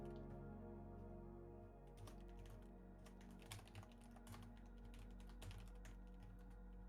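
Fast, continuous clicking of a computer keyboard, quiet and close, runs in dense, irregular bursts over a steady low hum with no talking.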